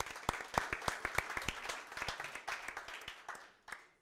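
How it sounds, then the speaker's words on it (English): A small audience at a ProductTank product-management meetup at EPAM Systems in Vilnius gives scattered hand claps. The clapping is fairly faint and uneven, with distinct individual claps that thin out toward the end. "applause to Carlos."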